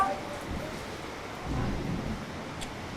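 Steady rain hisses throughout while low rumbles of thunder swell and fade in the distance.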